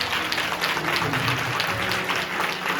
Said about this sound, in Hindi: वचन अच्छा लग रहा है तो जोर से यीशु के लिए ताली बजाएं।